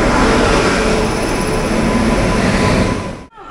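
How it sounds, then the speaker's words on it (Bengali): The Kriya Yoga Express rolls into a station, a loud, steady rumble of wheels and carriages that holds close and continuous, then cuts off abruptly near the end. "এরপরেই কিন্তু ক্রিয়াযোগা এক্সপ্রেস ঢুকবে।"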